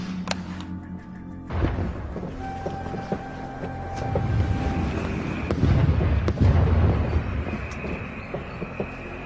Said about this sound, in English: Mortar's coming rather close.